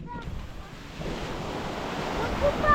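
Mediterranean Sea waves washing onto the shore on a January day, a steady broadband surf roar with some wind buffeting the microphone, growing slightly louder toward the end.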